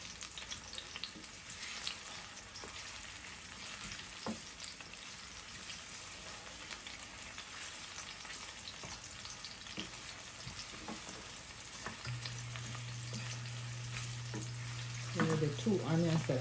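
Food fries in a pan on a home stove set not very high while Nigerian pepper sauce is made, giving a steady broadband sizzle throughout with occasional clinks; a low tone hums near the end and faint speech appears.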